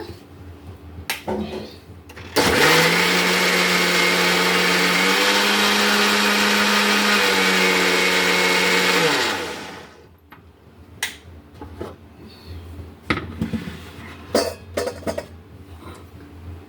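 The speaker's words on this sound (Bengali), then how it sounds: "এটাকে মিক্সারেতে দেব আর একটু ঘুরিয়ে দেবো ব্লেন্ডারেতে" A kitchen mixer-blender runs loud and steady for about seven seconds, its motor pitch stepping up partway through, then cuts off, leaving quiet kitchen clatter and small knocks before and after.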